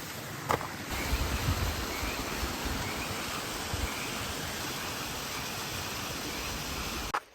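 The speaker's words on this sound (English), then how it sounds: "I think we found waterfall number 4." Steady broadband rush of a waterfall deep in Mount Diablo in the Bay Area, continuous and fairly loud, with a couple of brief knocks near the start and end.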